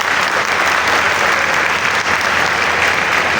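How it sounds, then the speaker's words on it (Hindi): Loud, dense applause from a class audience at the Governor House, honoring former governor Kamran Khan Tessori, sustained and even throughout with no voices over it. "कामरान खान टसोरी के लिए जोरदार तालियां हो जाए"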